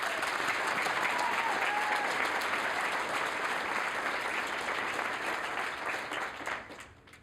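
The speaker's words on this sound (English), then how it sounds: "Please give Kaylin a round of applause for this year's Franson Leadership Scholarship." Warm, sustained applause from the audience at a student television production awards ceremony, full and even for several seconds before tapering off and fading out at the end.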